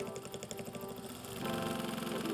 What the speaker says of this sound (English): For many, this is a sewing machine.